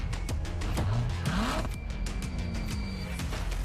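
A Ferrari in the racing game The Crew Motorfest roars along with a steady loud engine drone, gear shifts and rising revs, and a brief tire squeal sweeping through the middle.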